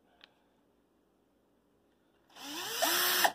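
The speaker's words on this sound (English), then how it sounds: "So if I'm careful, maybe I can just drill kind of near to that hole." Cordless drill boring into a piece of wood, a steady loud whirring burst that starts after a faint click and runs for about a second, with pitch shifting as the bit bites.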